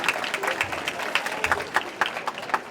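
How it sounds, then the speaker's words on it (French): An audience applauds at a French-language ceremony handing over a donation of equipment for national education, a dense run of close clapping with a few sharper claps standing out. "On peut déjà l'applaudir bien fort."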